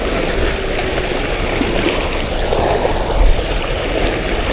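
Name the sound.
strong stream current flowing through tunnel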